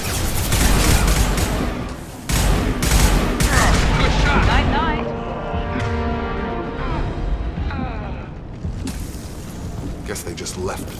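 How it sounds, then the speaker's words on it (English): Repeated gunfire from Blue Suns mercenaries and Vorcha in Mass Effect Legendary Edition, loud bursts and booms layered with mechanical clatter and combat noise, with a voice talking over parts of it. "The Blue Suns and Vorcha shooting anything that moves."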